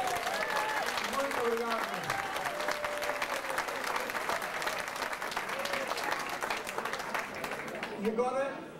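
Steady rhythmic clapping from a crowd accompanies a group dance at a village festival, dense and continuous throughout, with a voice briefly calling over it near the start and end.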